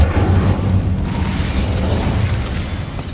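An Incendio fire spell cast in Hogwarts Legacy, a loud rumbling whoosh of flame with a deep boom that fills the whole moment and then slowly tails off.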